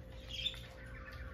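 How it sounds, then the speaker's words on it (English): Pet birds under a cage cover chirp and squawk faintly in a quiet indoor room, brief high calls over a low steady hum. "please excuse my birds. They are covered up, but they haven't wound down yet."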